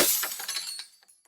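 A glass pane in a mudroom door shatters under a swung brass fire extinguisher: one sharp crash, then a quick tinkling spill of shards that fades out within about a second.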